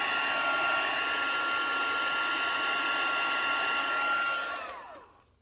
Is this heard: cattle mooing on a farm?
no